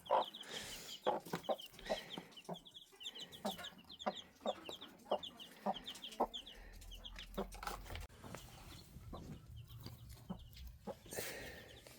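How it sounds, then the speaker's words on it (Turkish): Chickens cluck steadily with frequent short calls from several birds, fairly close, plus occasional louder squawks and thin peeping chirps from chicks in the background. "Kış civcivleri de burada."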